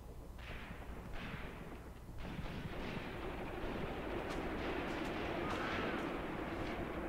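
Artillery and gunfire in a Graviteam Tactics battle set around Kharkov in 1942: a few dull booms and sharp gunshot cracks, faint and distant, over a continuous rumbling battlefield background.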